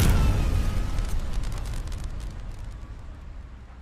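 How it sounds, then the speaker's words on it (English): High-voltage flashover explosion inside an HV cabinet at a mine, a sudden loud blast at the start that decays into a long crackling, rumbling tail with sharp pops. "What caused the explosion?"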